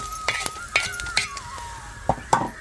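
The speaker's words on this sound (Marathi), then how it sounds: "आता धने चांगले भाजी टाकले" Coriander seeds dry roasting in a pan, with a spoon stirring and scraping against the metal in sharp intermittent clinks over a faint sizzle, close up and without talk.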